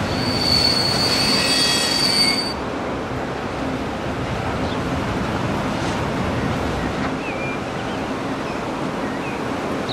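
A train rolls past in the Transport Fever 2 video game, a steady rumbling wash of wheels on rails with a high metallic squeal during the first couple of seconds, continuing as a broad, even roar.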